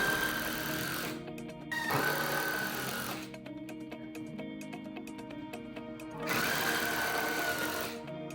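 A power drill drives screws to join wooden legs for an SUV camping platform, whirring in long bursts with a steady motor whine and pauses between runs, close and loud.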